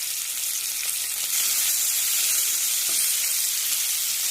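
Ground spices including coriander, cumin and garam masala sizzle in hot oil in a pan for pepper chicken dry fry, a steady close, bright frying hiss with occasional stirring and no talk.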